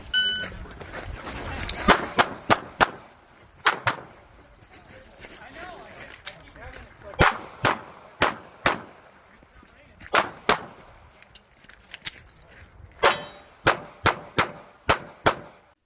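Pistol shots ring out during an IDPA shooting match in the new provisional division, fired in sharp separate strings of two or three with pauses for movement between them, loud and close over a low outdoor background.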